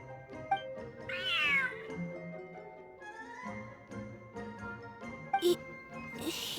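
Cats meow repeatedly in Genshin Impact during a feline-themed event, several short cries over a soft game music bed with a faint jingle and light clicks.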